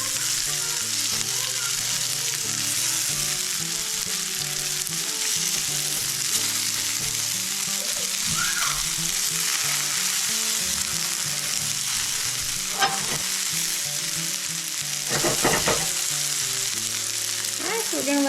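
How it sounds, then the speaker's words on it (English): Bacon grease sizzles steadily in a hot pan, a dense constant crackle with a few sharper pops near the end and background music underneath. "Good old bacon grease. Yeah, that's what you want to hear."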